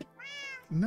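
A cat in Minecraft gives a single drawn-out meow, close and clear, followed by a brief spoken word.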